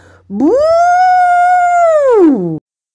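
A loud, drawn-out elephant shout from a read-aloud children's story about Elmer rises, holds for about two seconds, then falls away as a single tonal cry heard on its own.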